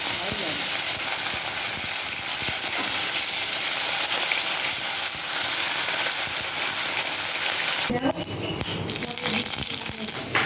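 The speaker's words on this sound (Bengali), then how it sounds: "এবার আরেকটু পরিমাণ তেল দিয়ে আমি বাকি মাছগুলো দিয়ে দিলাম" Pieces of shol fish fry in hot oil with a loud, dense, continuous crackling sizzle close by, which thins out and softens toward the end.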